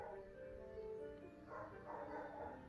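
Dogs bark outdoors, faint and distant, as scattered yips and woofs under a steady indoor hum from a nearby computer.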